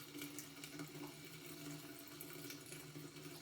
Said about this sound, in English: Let me turn off the water.